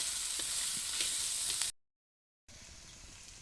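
Mashed boiled potatoes sizzling in a pan with already-fried spices while being stirred, a soft continuous frying hiss with light scraping, broken by a short dead-silent gap before the quieter sizzle resumes.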